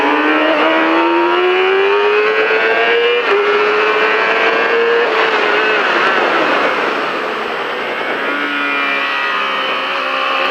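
A car accelerating hard out of a corner on a track, a loud close engine note climbing in pitch through gear changes, then easing off and building again, with no talking.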